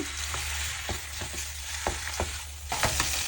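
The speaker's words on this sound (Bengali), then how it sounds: "এখন এর মধ্যে রসুন কুচি দিয়ে দিচ্ছি এর মধ্যে এখন ম্যারিনেট করে রাখা মাংসগুলোকে দিয়ে দিব" Marinated chicken and chopped garlic frying in oil in a pan, a steady close sizzle broken by several sharp spits and crackles, with a louder burst near the end.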